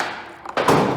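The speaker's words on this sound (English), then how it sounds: "Field test of the backyard Ballista. We're using a beer can as a sling, but that's gonna be all right. We're gonna fire a golf ball." A backyard ballista built from household items, with a beer can as a sling, looses a golf ball: a short hollow thunk of release followed by a brief rattling clatter, close and loud.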